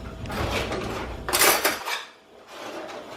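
Metal cutlery clinks and rattles close by as a butter knife is pulled from a set of utensils, a brief jangling cluster that fades to quiet, with no talking.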